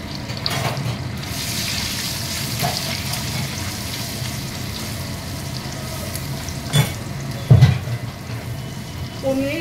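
Boiled eggs frying in a pan with spices and crushed kasuri methi for Afghani egg korma, a continuous close sizzle with stirring scrapes and a couple of brief louder clatters near the end.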